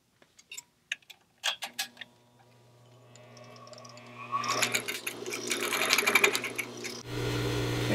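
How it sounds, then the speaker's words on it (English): Sewing machine stitching ribbon onto a fabric pillow, a few scattered clicks and taps first, then the motor whirs up into a steady, close rapid stitching hum that runs to the end. "it leaves you free to sew these on the machine"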